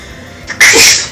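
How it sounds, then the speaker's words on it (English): A single loud, sharp human sneeze, with a short intake of breath just before the burst and nothing else around it. "I told you I was gonna sneeze."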